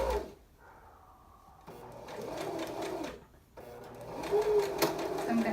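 A domestic sewing machine stitches straight over bias tape on a tunic made from a men's button-down shirt, running in two steady whirring bursts with a brief pause between, close and fairly quiet.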